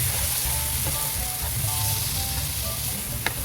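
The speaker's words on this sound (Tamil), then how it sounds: "நம்ம வாஷ் பண்ணி எடுத்து வச்சுருக்கிற ஈரலை இதில் ஆட் பண்ணிக்கலாம்" Washed chicken livers hit a hot pan for a pepper liver fry, giving a steady, close sizzle throughout with faint stirring and one brief clink near the end.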